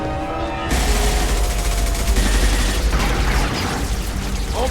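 A loud, sustained firefight from Mass Effect 2 breaks out after a short quiet opening, with dense overlapping gunfire and impacts continuing steadily to the end.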